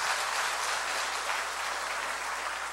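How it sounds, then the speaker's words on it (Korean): A church audience claps together in dense, sustained applause at steady volume, with no voices above it. "박수 한번 해주세요"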